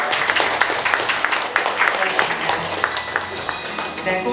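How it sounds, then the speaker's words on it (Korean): An audience at a formal commemorative ceremony applauds a guest being introduced, dense close clapping with crisp individual claps standing out, continuing steadily throughout. "박수로 맞아주십시오"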